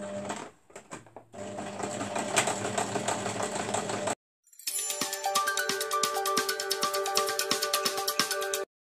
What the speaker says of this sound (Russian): Положили нашу строчку по краю где-то миллиметр от края